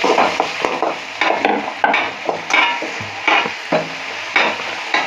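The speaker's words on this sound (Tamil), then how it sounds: "அடுப்பை ஃபுல்லாக வச்சுட்டு வெங்காயத்தை நல்லா வதக்கிக்குங்க" Small onions (shallots) are sautéed in a pan for a Chettinad chickpea curry, with loud rhythmic scraping stirs every half second or so over a low sizzle, close up.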